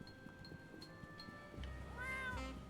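A cat in the video game Escape from Ever After 3 gives a single short, rising meow near the end over quiet background game ambience.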